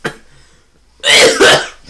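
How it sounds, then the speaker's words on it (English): A person coughing at a podcast recording after sipping strong ginger ale: a brief faint sound, a pause, then two loud, harsh, close-up cough bursts in quick succession. "I'm coughing"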